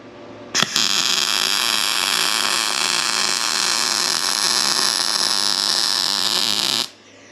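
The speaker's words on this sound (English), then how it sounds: "We're going to weld uphill." Welding uphill on a DIY folding engine run stand, heard as one continuous loud buzzing crackle that starts abruptly and runs steadily for about six seconds before cutting off.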